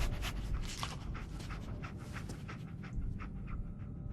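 Dogmeat, the dog companion in Fallout 4, pants steadily in quick, soft rhythmic breaths, close but fairly quiet over faint game ambience.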